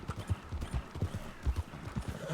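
A horse's hooves clip-clop in a brisk, uneven rhythm at close range in the Red Dead Redemption 2 game world, with no talk over them.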